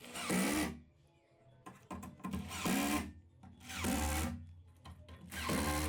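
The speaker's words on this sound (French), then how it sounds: "je vais serrer toutes les vis d'un coup" A power screwdriver drives shelf rail screws in four close, loud whirring bursts, each about a second long, with short quiet pauses and handling clicks between them.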